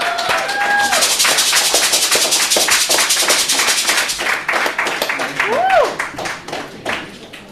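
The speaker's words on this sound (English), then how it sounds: "give Hollis one more round of applause" Applause and clapping from an audience honoring a performer named Hollis King at a Black History Month art event, dense steady clapping with whoops and voices over it, fading slightly toward the end.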